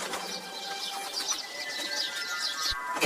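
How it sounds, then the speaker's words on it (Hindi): An Asian koel calls in a Hindi cartoon, its repeated bird notes sounding through a bright, busy background of other chirps. "दूसरे दिन सुबह में कोयल आकर कूकने लगती है।"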